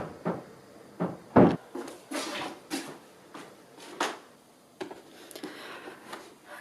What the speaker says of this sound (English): Oh my god, that door.